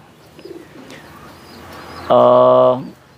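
A couple of soft, faint coos, then a louder, sustained call from a merpati pangkat pigeon near the end in a quiet setting.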